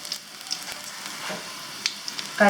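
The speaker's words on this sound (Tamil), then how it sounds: "இது வந்து ஒரு 2 நிமிஷம் வந்து பூண்டு வந்து கொஞ்சம் வேகட்டும்." Garlic sizzles steadily in a pan for brinjal poriyal, a close, even frying hiss with a few light clicks of a stirring spoon near the end.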